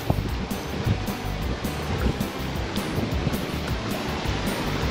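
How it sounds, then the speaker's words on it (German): Open-ocean waves in the South Pacific wash steadily around a sailing yacht under way, with constant surf-like rushing and wind buffeting the microphone, and no voices. "Die Wellen sind relativ flach."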